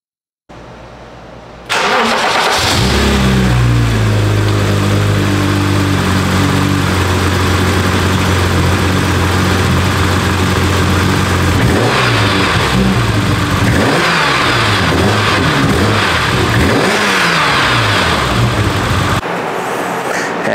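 A BMW E34 M5's 3.6-liter inline six starts up, then idles loudly before being revved repeatedly in rising and falling bursts toward the end, close to the engine with no talk.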